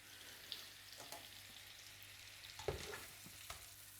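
Food frying in a pan during home cooking gives a faint, steady sizzle with occasional soft stirring knocks and scrapes, heard alone without talk.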